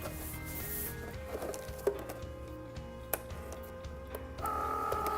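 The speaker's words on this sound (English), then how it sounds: "since we told the machine exactly what to do, it just keeps on cutting" A cutting machine with a fine-point blade slices pink solid cardstock in a steady, faint mechanical whir, with soft scraping and occasional ticks and clicks as the carriage moves.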